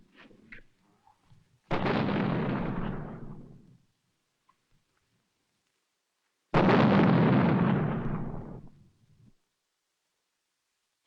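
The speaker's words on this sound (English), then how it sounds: "Ain't you never heard a cannon before?" Two heavy booming blasts, each with a long rumbling decay, about five seconds apart and loud and close, like cannon fire on an old western frontier setting; quiet between them.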